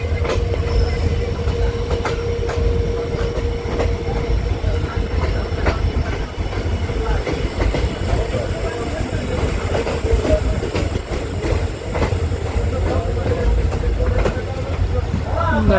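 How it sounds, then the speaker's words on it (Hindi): The 54041 passenger train, diesel-hauled by a WDP4D locomotive, pulling into platform 2 at Narwana Junction with steady wheel rumble, rhythmic clickety-clack and a faint squeal, close and sustained, while someone talks over it. "नरवाना के प्लेटफॉर्म नंबर 2 पर आ गई अपनी पैसेंजर ट्रेन।"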